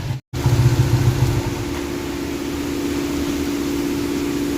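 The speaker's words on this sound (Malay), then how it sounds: "Tapi dia susah nak start. Mari aku tunjuk korang." A motorcycle engine that is hard to start when cold catches after a brief silence, then runs loud and close with a steady, throbbing drone.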